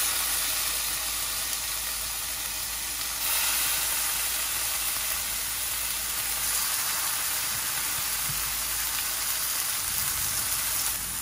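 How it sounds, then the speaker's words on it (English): Bacon sizzles and hisses steadily in a pot for seafood gumbo, a constant bright frying crackle that swells slightly partway through, with no talking. "Let me go ahead and get my bacon on."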